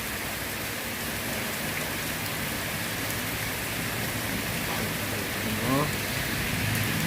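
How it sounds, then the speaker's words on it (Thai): Steady rain falls outdoors on a street in Taling Chan, a dense even patter on surfaces, with a faint voice briefly audible partway through. "ฝนก็ได้ตกลงมานะครับ"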